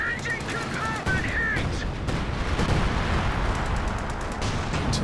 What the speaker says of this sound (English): Artillery was also dropped by that Panzer IV before it went down